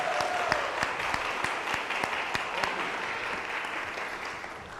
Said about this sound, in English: Can we get a round of applause for our trees?